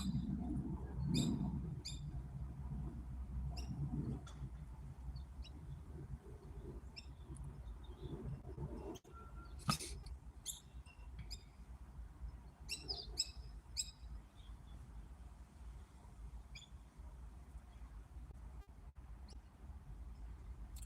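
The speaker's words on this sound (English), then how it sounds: "I think the bird knows we're talking about it. That's why, yeah, making noise now." Bird calls near an outdoor pavilion at a nature reserve, with repeated short chirps scattered through the clip over a low rumbling background.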